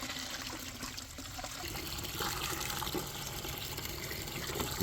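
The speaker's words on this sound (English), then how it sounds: "topping it up with clean water to make" Clean water pours steadily into a bucket of homemade fertilizer solution for tomatoes, cucumbers and peppers, a continuous close splashing and trickling fill with no speech.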